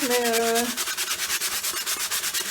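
Coarse 60-grit sandpaper is rubbed over a small craft piece made from a matchbox, a close, rhythmic scratching with quick regular strokes, after a brief tonal sound at the start.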